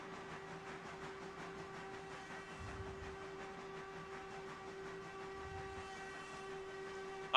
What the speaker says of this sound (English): So we're just gonna fucking send this train.